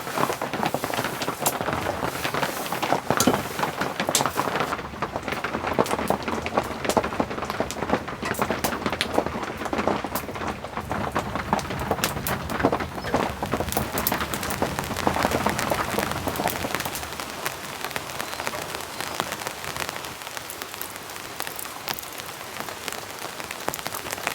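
Heavy rain drums steadily on a rustic remote cabin shelter, a dense continuous patter that holds loud throughout with a slight easing near the end and no voices.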